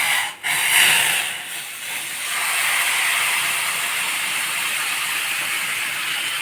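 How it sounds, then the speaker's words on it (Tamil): Water hits a hot pan with a loud hiss that settles into a steady, sustained sizzle, while making rice rava upma. "நல்லா சூடாயிடுச்சு தண்ணி கொதிக்கிற ஸ்டேஜில் இப்போ வந்து தண்ணி சேர்த்துடலாம்"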